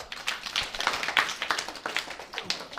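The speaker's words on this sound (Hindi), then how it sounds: "बस ताली जोरदार।" A group of schoolchildren in a village English class applauds together, a burst of quick, uneven hand claps at moderate loudness, filling the room for a few seconds with no talk over it.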